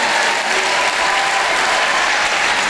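A congregation at a church service applauds, dense sustained clapping that fills the space evenly from start to finish, loud and close with no talk over it.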